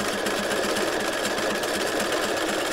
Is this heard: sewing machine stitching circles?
yes